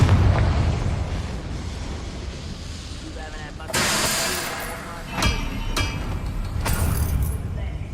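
Confringo explosion spells are cast in the game Hogwarts Legacy. Several sharp fiery blasts burst over a low rumbling background. A voice speaks in the clip.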